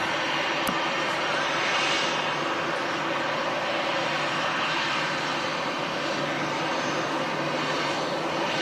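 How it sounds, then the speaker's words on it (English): A heavy jet airliner taxis at Manchester Airport, its engines giving a steady, moderately distant whine and rumble that holds evenly throughout with no talk over it. "Something heavy taxiing out by the sounds of it as well."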